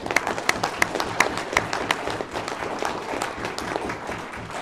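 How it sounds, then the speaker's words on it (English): Forum audience applauds political candidates, moderately loud clapping with distinct sharp claps early on, settling into a softer, even patter toward the end. "I do want to give a big round of applause to each one of the candidates that have took time out to come here today"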